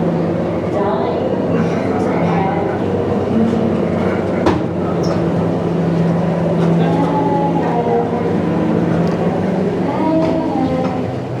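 A Disneyland theme park train rumbles steadily along with rhythmic clacking of wheels on rails and occasional squeals, while voices talk over the continuous rolling noise.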